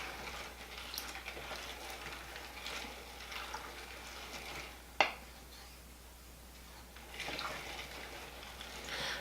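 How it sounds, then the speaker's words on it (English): Ranch beans seasoned with salt and spices being stirred in a pot over heat, with a soft continuous sizzle and gentle scraping, one sharp clink of the spoon midway. "Give it all a stir."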